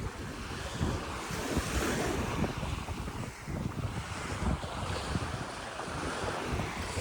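Surf rolls and breaks continuously along a Gulf beach at Manasota Key after Hurricane Ian, a dense crashing wash mixed with gusty wind buffeting the microphone, with no talk.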